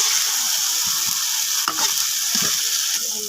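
Hilsa fish sizzles steadily in a frying pan, a dense close hiss with a few scraping stirs and clinks partway through.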